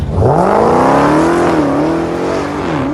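Dodge Redeye on drag radials launching down a drag strip at the Modern Street Hemi Shootout, its engine roaring loud and close as the revs climb steadily through the gears with no talk over it.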